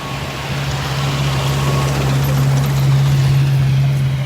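A beach cleaning vehicle engine drones steadily nearby on Vanderbilt Beach, a low constant rumble with a strong hum and no voices.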